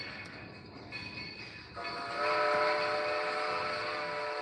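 A train sounds its horn at a railroad crossing: a sustained chord of tones that swells louder partway through and holds steady, heard alone without any talking.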